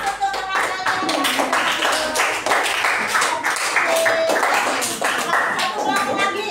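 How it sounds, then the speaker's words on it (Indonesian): Classroom applause for classmates, a dense burst of many hands clapping for several seconds, with voices mixed in under the clapping. "ayo beri aplaus untuk teman kalian"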